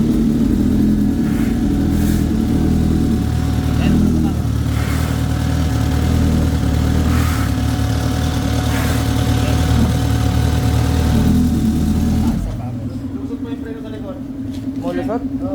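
A Suzuki GSX-S1000 motorcycle engine runs fresh after an oil change, idling with a steady, loud mechanical rumble up close before dropping to a lower idle near the end, with people talking over it.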